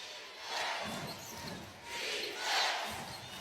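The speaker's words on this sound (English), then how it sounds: "Crowd will stand until the first bucket from Indiana." Basketball arena crowd standing and roaring at a women's playoff semifinal game in Indianapolis, a sustained loud cheer that swells in waves, with no other sounds standing out.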